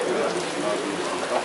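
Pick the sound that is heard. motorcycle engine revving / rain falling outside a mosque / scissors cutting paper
rain falling outside a mosque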